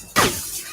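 Glass shatters in the Mass Effect 2 video game, one sharp crashing burst that quickly decays into a tinkling, fading scatter of shards, loud and close with no talk over it.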